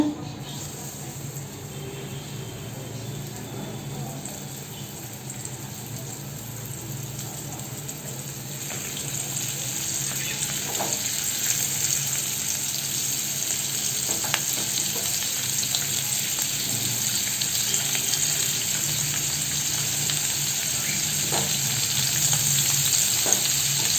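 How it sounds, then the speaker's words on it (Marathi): Bangda mackerel fish frying in hot oil, Malvani style, a loud continuous sizzle and crackle close by with occasional sharper pops, holding steady and building slightly as it goes. "आता आपलं तेल गरम झालेलं आहे। आता आपण यात मासे टाकून घेऊया।"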